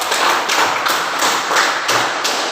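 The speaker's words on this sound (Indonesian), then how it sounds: "Baik, kelompok 2, tepuk tangan." A classroom of students claps for group 2 in a rhythmic, evenly spaced pattern, each burst of loud close claps landing at a steady beat with no talking over it.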